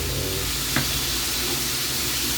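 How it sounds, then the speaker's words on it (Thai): Mixed vegetables and fresh shrimp are stir-fried with oyster sauce in a hot pan, a loud steady sizzle with a brief scraping stir partway through. "น้ำมันหอยนิดนึงครับ แล้ว ก็ผัดไวผัดเข้ากันนะครับผม"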